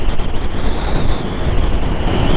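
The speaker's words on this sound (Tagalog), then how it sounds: "Grabe hangin." Strong wind roars steadily across a microphone on a dry, mountainous roadside ride in Ilocos Norte, a loud, continuous buffeting rush with no voices.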